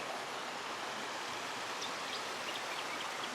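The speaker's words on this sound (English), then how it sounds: "they are made up by walking along a brook that looks like this" Brook water flowing steadily along a gully trail, a continuous broadband rush with fine trickling detail, fairly near and alone with no talk.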